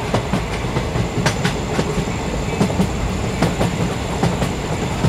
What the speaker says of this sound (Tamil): அந்த போது பார்த்தீங்களா, இதாங்க சென்னை ட்ரெயின்.